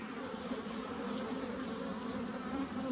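Bees crowd their nest, carrying pollen in, giving a continuous close droning buzz that swells slightly toward the end.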